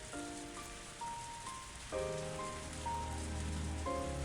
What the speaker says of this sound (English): I feel like I was left alone in the heavy rain